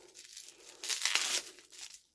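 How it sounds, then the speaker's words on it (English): Close-up crinkling and tearing of sellotape as a spiderling package is unwrapped, a soft rustle swelling into a louder crackling burst midway, then easing off to quiet. "just get the sellotape started and we can get it unwrapped"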